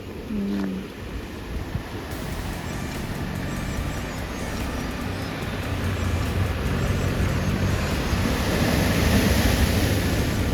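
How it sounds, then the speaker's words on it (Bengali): Sea waves at Mandarmani beach, a steady broad rushing surf that swells gradually louder toward the end, continuous and close with no talk. "সমুদ্রে একটু আওয়াজ আছে"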